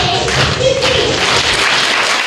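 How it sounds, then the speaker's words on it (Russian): An audience at a celebration in a rehabilitation centre applauds a performer with loud, dense clapping that stays steady and close throughout. "Зрители громкими аплодисментами приветствовали каждого исполнителя."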